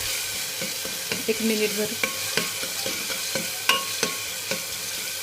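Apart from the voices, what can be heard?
ginger garlic paste frying in pan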